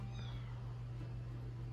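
A cat meows once, faint and brief, over a low steady hum in an indoor room.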